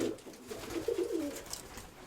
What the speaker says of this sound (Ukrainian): Оцю голубочку, яка вчора прийшла.